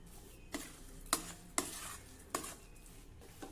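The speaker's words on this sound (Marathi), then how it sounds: "आता मध्यम आचेवर हे सतत परतत राहायचं आहे" A sugar and saffron mixture being stirred continuously in a pan over medium heat, a few distinct scraping strokes spaced about a second apart over a faint steady background, with no voices.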